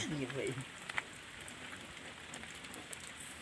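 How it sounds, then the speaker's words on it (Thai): Steady rain falls under a dark, overcast sky outdoors at a rural fishing spot, a soft continuous patter with a few sharper drops. A voice is briefly heard at the start. "อากาศมื้อนี้ก็ล่มนะครับ ทั้งล่มทั้งฝน ฟ้าครึม"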